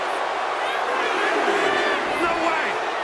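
Loud wrestling-arena crowd cheering in WWE 2K25 during a Scott Steiner versus Bron Breakker match, a sustained roar with rising whoops and shouts, close and steady throughout.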